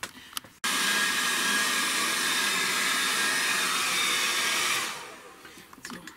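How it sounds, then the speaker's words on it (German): A handheld hair dryer blows loudly and steadily for about four seconds, then powers down, used on a poured-paint upcycling project on an old tray. "Probieren wir es einfach mit dem Föhn."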